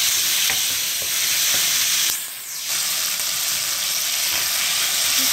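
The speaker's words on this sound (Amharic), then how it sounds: "እንደምታዩት በደንብ እያቅላላሁት ነው ሽንኩርቱንና ስጋውን ማለት ነው" Onion and meat fry in a pan with a loud, steady sizzle, broken by scraping stirs and a brief dip as the food is turned, close up and without talk.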